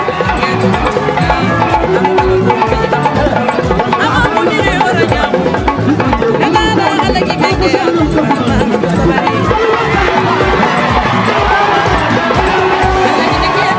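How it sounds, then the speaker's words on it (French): A huge political rally crowd cheering and chanting in a continuous loud roar, with rhythmic pulses of drumming or clapping running beneath the voices throughout. "Cette foule immense répondait à l'appel à la mobilisation lancé par le président candidat"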